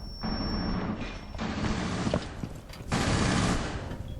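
Rapid automatic gunfire in a shooter video game, sustained bursts of close, loud shots separated by short pauses, with no talk over them.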